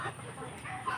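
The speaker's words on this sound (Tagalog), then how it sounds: "Ayan yung mga alaga niyang manok." Chickens cluck softly in a short burst, fairly close, with faint backyard farm ambience behind them.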